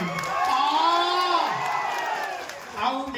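A stage show audience cheers and whoops loudly, with shouting voices rising and falling across the crowd and a fresh burst near the end.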